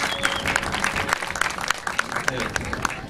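Audience applause for a guitarist at a live comedy-music show, steady crowd clapping with sharp individual claps throughout, under a voice speaking over it.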